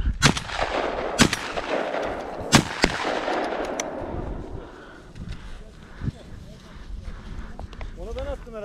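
Shotgun blasts ring out during a quail hunt, several sharp, loud reports in the first few seconds, followed by rustling field noise and a dog or people moving about, with voices talking faintly in the background.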